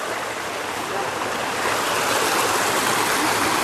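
A mountain stream in the Cherkasai gorge flows over rocks, making a dense, steady rushing hiss that swells slightly louder toward the end.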